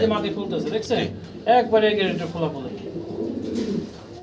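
Pigeons coo in soft, rolling phrases close by, mixed with a voice talking over them.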